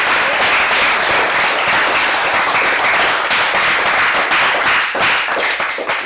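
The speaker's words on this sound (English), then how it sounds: "Give them a round of applause." Loud, sustained applause from an audience of parents and kids at a coder fair, thick continuous clapping that holds steady throughout and eases only slightly near the end.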